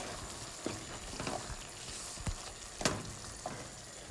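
Lamb mince frying with spices in a pot for aloo matar qeema, a steady close sizzle with occasional scraping stirs and clacks of a spoon against the pot, no talk.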